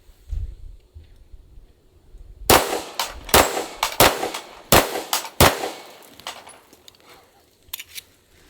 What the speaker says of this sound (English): We got 5 shots. Let's go on that dueling tree.